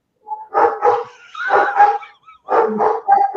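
A dog barks in three close, loud bursts of two or three woofs each, separated by short pauses, with no voices over the barking.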